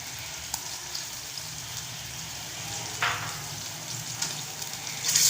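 Ginger frying in a hot pan: a soft, steady sizzle with a brief hiss as it is stirred and a few light utensil taps, fairly quiet and heard alone.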